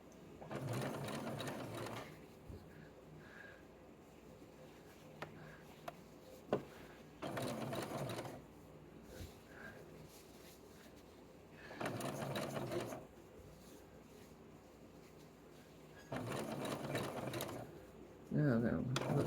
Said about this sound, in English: Now we're going to back stitch around this